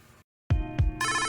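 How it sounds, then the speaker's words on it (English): An office phone rings in a video game, a clear synthetic telephone bell that starts after a brief silence and repeats in loud electronic trills. "Incoming call on office phone."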